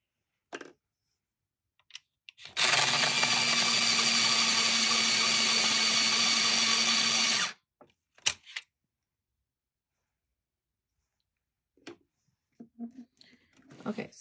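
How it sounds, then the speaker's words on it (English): An electric pencil sharpener that stops on its own whirs steadily and loudly for about five seconds, then cuts off abruptly. A few faint clicks and handling noises follow in the quiet. "my sharpener, it is this one. I got it from Amazon"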